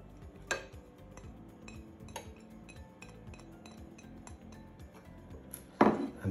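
Cheese sauce being stirred in a pan, a utensil clinking and scraping against the metal in a steady series of light taps, with a louder clatter near the end.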